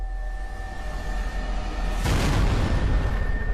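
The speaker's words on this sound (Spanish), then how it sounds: "cuando una explosión repentina destroza el barco." The USS Maine warship blows apart in Havana harbor in 1898: after a low steady hum, a sudden loud blast erupts midway and rolls on as a sustained, rumbling roar.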